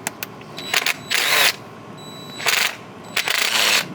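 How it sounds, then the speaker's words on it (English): An impact driver works at stubborn screws on a Mazda Miata project car, firing several short, loud rattling bursts separated by brief pauses. "We got the impact out. We're getting these screws out one way or another."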